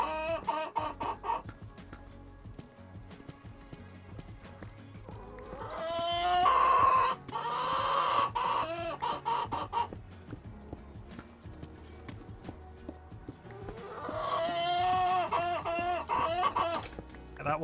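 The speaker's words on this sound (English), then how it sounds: "There's very much an upset chicken amongst them." An upset chicken in Minecraft clucks in agitated bursts among other farm animals, with repeated hoof-like clip-clop knocks mixed into the game sounds, loud spells at a few points.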